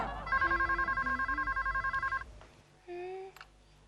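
A mobile phone rings in a comedy sitcom scene with a pulsing electronic ringtone of rapid repeated beeps lasting about two seconds, followed by a brief tonal chirp and a short voice-like sound.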